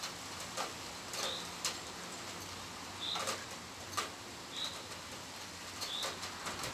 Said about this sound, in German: das ist nämlich das Rotkehlchen mit dem schönen epischen Gesang